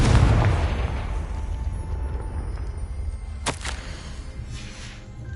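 The Confringo fire spell goes off in Hogwarts Legacy with a loud booming blast at the start that fades into a rumbling tail, then a sharp crack halfway through and a softer pop near the end.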